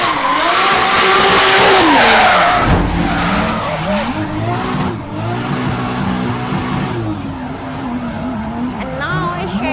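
A drift car, a Nissan 300ZX Fairlady Z that replaced a 2JZ-engined Nissan Cefiro, skids with loud, sustained tire squeal and wavering engine revs that rise and fall throughout, with talk mixed underneath.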